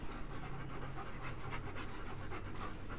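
A dog, a handsome pup, pants steadily and rapidly at close range, with a continuous breathy rhythm and no talking.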